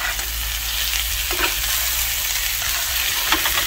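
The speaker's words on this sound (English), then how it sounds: "All this time, this has been frying inside." Karela (bitter melon) fries in hot oil, giving a dense, continuous sizzle with a few soft stirring clinks. The sound is steady and close, with no voices.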